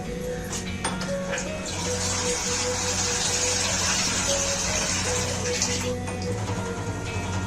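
About one and a half litres of water, roughly six glasses, gush steadily into a wok for chicken soup, a continuous loud pouring rush that lasts throughout over a low background hum.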